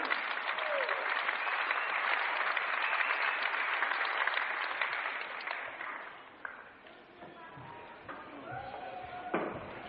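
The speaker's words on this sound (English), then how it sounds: "Give them a clap, ladies and gentlemen." An audience at a martial arts tournament claps steadily for several seconds, then the applause fades out into scattered claps and quiet room noise.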